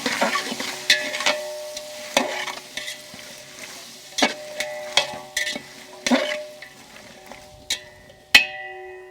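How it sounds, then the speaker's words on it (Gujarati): Potatoes fry in a pan with turmeric, mustard seeds and cumin under a low, soft sizzle. Sharp metallic clinks and scrapes of a spoon or spatula against the pan break in at irregular intervals. "બટેકા બી થોડા ફફોડા માંડ્યા છે"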